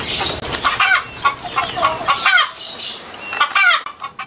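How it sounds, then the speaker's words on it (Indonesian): A rooster animal toy sounds off with a run of loud, close clucks and crowing calls, repeated in quick rhythmic bursts with short pauses between. "Ayam jantan."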